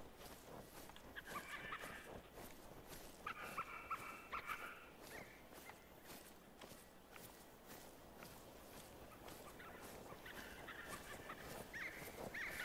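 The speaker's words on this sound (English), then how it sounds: "Birds." Bird calls in The Hunter game: bright chirping trills recur in short bursts over a steady outdoor ambience with soft footsteps, the calls moderately loud and a little distant.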